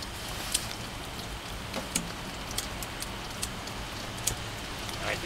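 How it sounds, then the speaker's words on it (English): Steady outdoor rain falls during a camping stove test, a dense hiss with scattered sharp drip ticks, fairly faint and continuous throughout. "It's raining outside"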